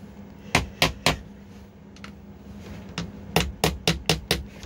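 Hammer blows drive plugs flush into the cell holes of a Korean STA car battery: three sharp strikes, a pause with a couple of faint taps, then a run of six evenly spaced, loud knocks close by.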